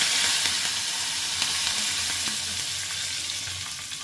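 Curry leaves sizzle in hot tempering oil with dried red chillies, chana dal and asafoetida, a steady close frying hiss scattered with small crackles.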